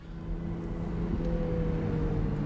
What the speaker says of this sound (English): But Ferrari reckons that they've cracked the noise problem with this V6, so much so that they call it a mini V12.